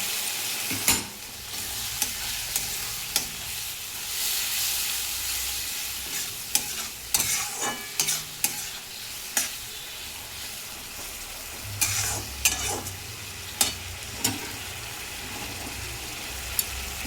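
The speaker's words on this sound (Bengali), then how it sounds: "আর একটুখানি জল দেবো দিয়ে মশলাটা ভালো করে কষাবো এবারে" Spice paste with salt, turmeric, chilli powder, tomato and a splash of water fries in a pan with a steady, loud sizzle, punctuated by intermittent scraping strokes of a spatula throughout.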